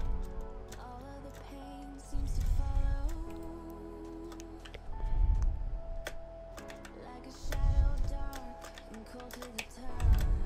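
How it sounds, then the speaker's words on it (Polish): Someone types on a computer keyboard placed close to the microphone while playing DeathRun, producing a steady stream of light, rapid clicks with periodic low thumping bursts underneath. "będzie to wszystko słychać klawiaturę, bo mam blisko mikrofon"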